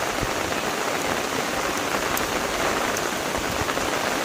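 Heavy rain pours down on a garden, a dense, loud, unbroken patter of drops striking surfaces close at hand with no voices.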